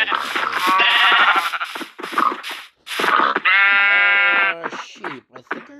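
Several Minecraft sheep bleat in quick succession, loud and close, with short pauses between the wavering calls.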